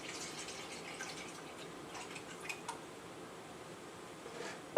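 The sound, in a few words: water poured into a measuring cup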